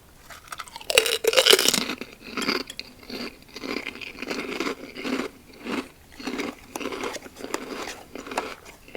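Loud, close crunching of fried pork rinds, a sharp bite followed by rhythmic chewing bursts, with no talking.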